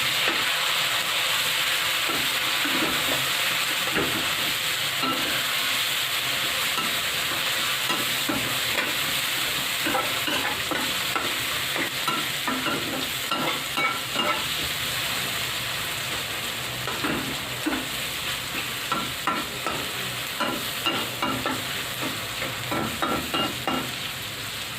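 Chopped tomatoes tipped onto browned onions in a hot pan for a potato and vegetable biryani, sizzling and hissing steadily while a spoon stirs and scrapes in irregular bursts, close and continuous with no talk.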